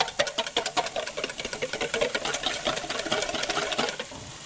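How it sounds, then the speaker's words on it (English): Egg yolks for carbonara being beaten with a whisk or fork in a bowl, a fast, steady run of close clicking and tapping strokes that continues without a break and has no talking. "now we're going to beat the egg yolks."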